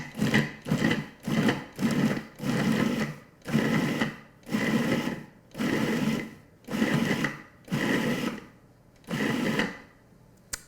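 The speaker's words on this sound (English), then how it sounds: "And then we're going to pulse this. until it's very finely chopped up." A food processor pulses crumble topping made with butter and almond extract in about a dozen short, rhythmic whirring bursts, close and fairly loud, separated by brief gaps.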